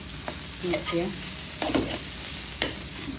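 Vegetarian papaya bhaji fries in a pan under a soft steady sizzle, broken by a few distinct scrapes and clinks of a spatula stirring, heard up close.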